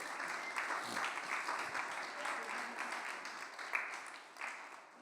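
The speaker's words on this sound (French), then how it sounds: "Applaudissons pour eux." Applause from a group at a youth and pre-teen church camp, steady dense clapping for the full five seconds, moderately distant and soft, without a lull.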